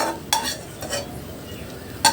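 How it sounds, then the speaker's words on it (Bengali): Fried nuts scooped out of a pan of ghee, a few sharp scrapes and clinks of a spoon against the metal over a soft, faint sizzle. "এই পর্যায়ে আমি উঠিয়ে নিচ্ছি বাদামগুলো।"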